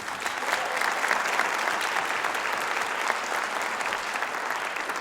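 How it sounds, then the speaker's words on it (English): Steady, full applause from a concert audience at a Southwest Washington Wind Symphony performance, dense and continuous throughout without any talking. "Let's give them all a round of applause."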